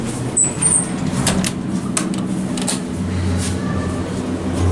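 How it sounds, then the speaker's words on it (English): Door operator of a Dover hydraulic elevator in a Kaiser Permanente building runs with a steady mechanical whir and low hum, punctuated by a few soft clunks and knocks, close by and fairly loud. "Let's get the door operator."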